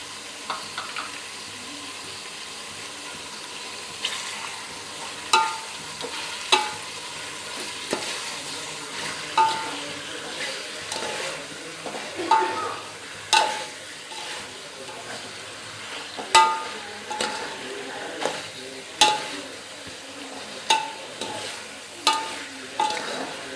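Ginger garlic paste frying in a pan of chicken curry, steady soft sizzle broken by regular scraping stirs every second or two, close and moderately loud, no talking.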